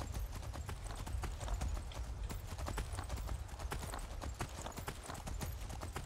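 Steady, brisk clip-clop of horse hooves trotting close by in the video game Skyrim, a continuous rhythmic clatter over a low rumbling background with no pauses.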